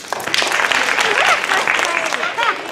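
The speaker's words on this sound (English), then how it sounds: "the second graders that you are hearing clapping" Second graders clapping in a school classroom, quick patter of small hands mixed with children's voices and chatter close by.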